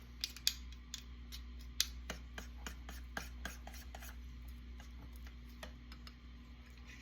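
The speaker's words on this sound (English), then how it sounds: "We're gonna mix this batter" Batter for lion's mane mushroom nuggets is whisked in a bowl, giving quick, light ticking and scraping strokes in an uneven rhythm over a low steady hum, soft and close.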